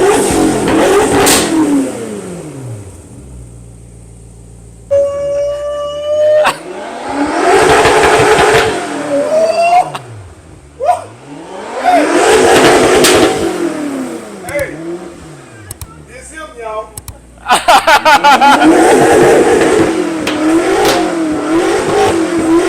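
A 2014 BMW M6 Coupe (F13) with a full aftermarket exhaust and its exhaust valves open, revving hard in repeated sharp bursts that rise and fall, loud and close, with a voice speaking between the revs.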